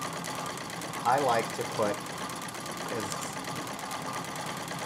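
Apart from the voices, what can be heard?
Singer 66 treadle sewing machine free motion quilting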